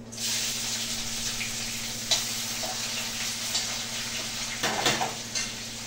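Chopped onion goes into hot oil with cumin and bay leaf for a paneer and potato dish, and a steady close sizzle follows with a few clinks of a utensil against the pan.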